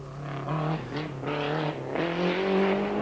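A rally car spinning out during the 1990 Rallye Monte Carlo, its engine revving up and down in loud, uneven surges as it slides and recovers, heard close by.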